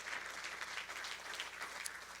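A church congregation claps together in steady, sustained applause, a dense even patter of many hands at a moderate distance.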